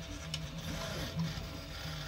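A 3D printer printing a part that comes out already assembled, its motors giving a soft steady whirring hum with faint stepping tones, quiet and alone.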